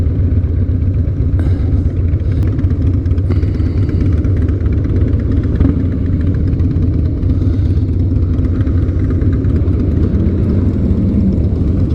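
Harley-Davidson motorcycle engine idling steadily and loudly up close, a dense low rumble that keeps going without a break, with no talking over it.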